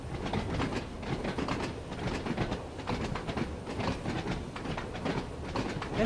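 Isle of Wight line train in Train Sim World 2 rolling steadily along the track, a continuous broadband rumble with faint rhythmic wheel clatter, fairly close and constant throughout.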